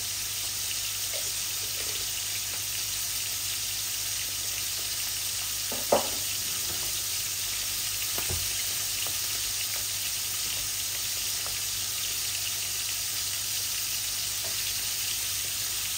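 Ingredients frying in hot oil in a cooking pot for a rohu fish head curry with potatoes, a steady dense sizzle that goes on throughout, with an occasional faint clink of stirring.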